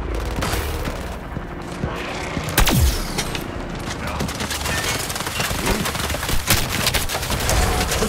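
Gunfire in Suicide Squad: Kill the Justice League, a busy mix of rapid shots and booming impacts over continuous battle noise, with a sharper blast partway through.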